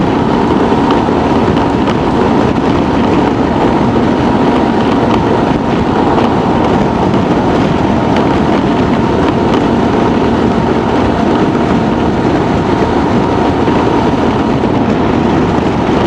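Steady, loud wind rush buffeting a rider's helmet on a 2024 Honda Transalp 750 at cruising speed, a continuous broadband roar with engine and road noise underneath and no pauses.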